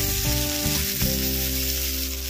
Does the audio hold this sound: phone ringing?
no